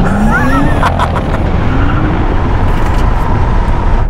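A Tesla Model X P100D launches hard in Ludicrous mode. Close and loud, a rising electric motor whine climbs over heavy tyre and road roar, with a few short sharp sounds near the middle.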